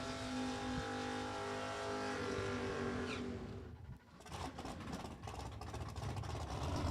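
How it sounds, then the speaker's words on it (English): At a Las Vegas bracket drag race, a Porsche race car rumbles and revs loudly near the start line, engine noise dipping briefly before building again. "And now we'll bring up the Porsche of Pete Both."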